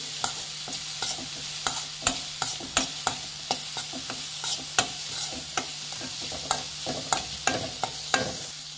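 A spice mix with coconut roasts in a pan while a utensil scrapes and stirs in steady, repeated strokes every half second or so, close and crisp over a faint background sizzle.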